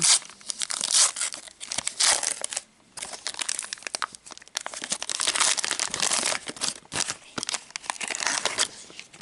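A Topps Match Attax 25/26 football card pack being torn open, loud close crinkling and ripping of foil wrapper in busy bursts with brief pauses between handfuls.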